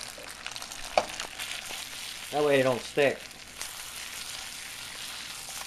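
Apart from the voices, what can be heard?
perogies sizzling in frying pan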